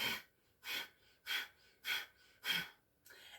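Forceful Kapalbhati yoga breathing: five sharp, rhythmic nasal exhalations about every half second, close and distinct, with quiet gaps between them and a softer breath at the end.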